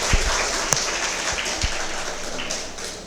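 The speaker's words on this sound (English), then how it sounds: "A big round of applause for that also." An audience at a college event on regional literature claps steadily, a brief burst of close, dense applause tapering off over a few seconds.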